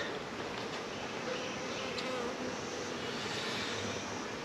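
A steady, dense buzzing of many honeybees as they are bumped into a hive, continuous and close, with no voices.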